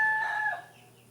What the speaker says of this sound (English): the cocks are crowing